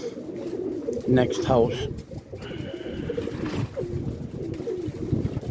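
Boston Red Wing Roller pigeons cooing in a loft, soft repeated low coos close by, with someone speaking briefly over them and some rustling in the background.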